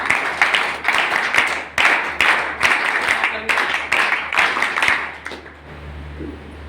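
Enthusiastic group applause at a gathering in a de-addiction centre, greeting a man called up as the next speaker: steady, fairly loud clapping in pulsing bursts that fades out near the end.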